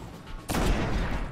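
A sniper rifle fires once in a sci-fi shooter video game, a sudden loud blast about midway that rolls into a sustained booming echo, with no talk.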